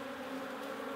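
Steady, dense buzzing of many honey bees swarming around a hive, continuous and close.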